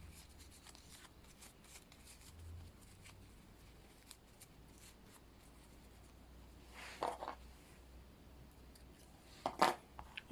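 Scissors snip sewing thread to finish a running stitch in hand sewing, giving two short, crisp clicks near the end of an otherwise quiet stretch.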